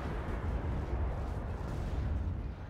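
Striker missile strike in the real-time strategy game Act of Aggression: a heavy, rumbling barrage of blasts and booming impacts, dense and continuous with no pauses, loud and low-pitched.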